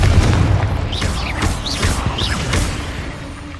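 Confringo spell blast in the Hogwarts Legacy video game, a deep booming impact up front followed by whooshing, sparkling magical swirls that fade out.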